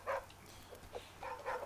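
Faint dog barks from the survival video game The Flame in the Flood, two short bursts at the start and end of a quiet stretch with low background noise.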